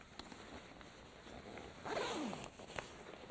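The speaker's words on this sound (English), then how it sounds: "you would just simply zip it all back up" Zipper drawn along an insulated Arctiva Comp 8 snowmobile bib, a soft close rasp with a few light ticks before one longer sweeping zip near the end, quiet and alone.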